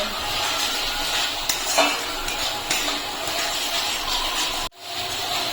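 Sauce sautéing with kasuri methi in a pan for masala bhindi, loud steady sizzling with scattered metal spatula clinks, cutting off abruptly near the end before resuming faintly.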